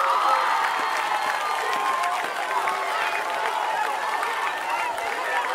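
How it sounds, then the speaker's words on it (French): A church congregation acclaiming Jesus, with sustained applause and cheering from a large crowd filling the room at steady volume, with voices mixed in. "On acclame Jésus."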